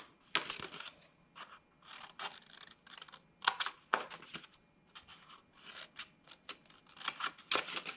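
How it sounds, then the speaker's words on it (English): Scissors cut paper for a folded star ornament in quick, close bursts of crisp snipping, repeated rhythmically with short pauses between strokes, near and clear in a quiet space. "I'm just going to cut right to that mark right there."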